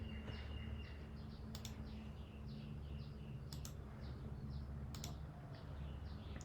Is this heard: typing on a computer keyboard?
yes